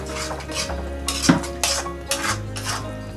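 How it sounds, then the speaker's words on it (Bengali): A spatula stirs spices in a metal kadai with a few scraping, clinking strokes against the pan, close up, over a faint low hum. "এবার ঢাকনাটা সরিয়ে নিয়ে মশলাগুলো আরেকবার ভালো করে নেড়ে নিচ্ছি।"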